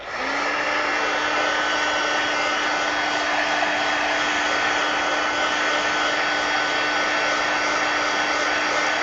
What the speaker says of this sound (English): I need to hit this with the heat gun